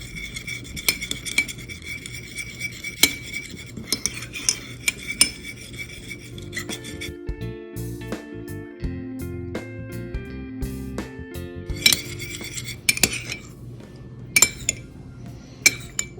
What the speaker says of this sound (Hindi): ये 1 से 2 पिंच मैंने ऑरेंज कलर लिया है, फूड कलर है ये मैंने ये ग्रीन कलर लिया है, इसको भी मैं मिक्स कर दूंगी